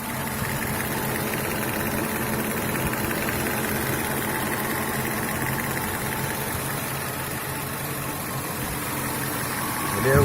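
A BMW 730 with the M60B40 V8 idles with a knocking fault in the left cylinder bank: a steady, close engine drone with a faint repetitive tapping running through it, rising slightly at the very end.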